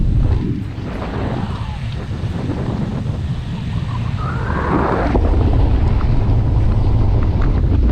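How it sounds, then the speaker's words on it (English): Wind swirling past a cyclist's microphone on a group road bike ride, a loud continuous low roar that surges and buffets, growing stronger toward the end. "You can hear that wind, it's swirling around"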